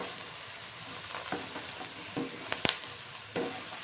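Eggplant frying with salt in a pan gives a steady, moderate sizzle, broken by a few sharp clicks and scrapes from stirring.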